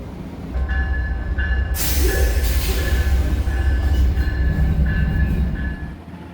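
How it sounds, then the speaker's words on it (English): An Amtrak passenger train rumbles steadily past nearby, a loud continuous roar of wheels and engine that swells and then eases off. "I'm actually going to take a long-distance Amtrak train for the first time ever"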